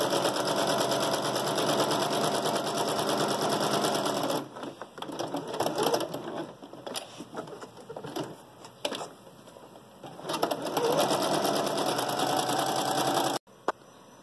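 Sewing machine stitching a 3D two-in-one fabric face mask, with a fast, close, steady whirring run that breaks into short irregular bursts in the middle before running steadily again and stopping abruptly near the end.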